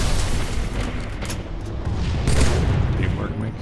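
Rolling grenade blasts and gunfire fill a Halo 3 multiplayer match on an open map, loud and continuous, with dense booms layered over one another.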